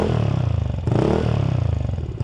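A Vespa Sprint scooter with a Polini exhaust idles close by with a fast, pulsing putter, then revs briefly in one short swell before settling back to idle, with no voices.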